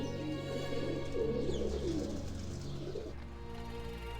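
Carrier pigeons from the First World War era coo softly in a steady rolling murmur, several birds together, near and continuous under a low background hum.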